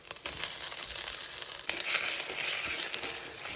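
Tomatoes go into mutton liver kima frying with ginger-garlic paste in a pan, and a steady close sizzle and crackle runs throughout. A sharper burst of frying comes as they drop in, with no talking.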